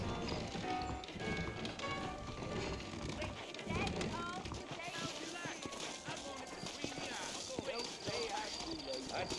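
Horse hooves clip-clop steadily in the Western video game Red Dead Redemption, a continuous rhythmic patter running beneath voices talking and a dense game soundscape.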